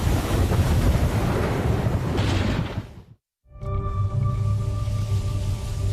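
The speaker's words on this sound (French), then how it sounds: "Tous ces éléments combinés créent une mer très instable et agitée avec des vagues scélérates." Rough, unstable sea in the Bermuda Triangle: heavy waves and wind roar loudly against the microphone, then cut out briefly before the turbulent surf returns with a steady tonal hum beneath it.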